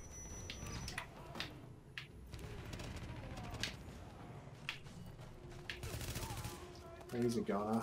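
Gunfire in The Division during a hospital rescue fight, sharp repeated shots scattered through a busy battle mix with a short louder burst near the end, while a voice talks over it.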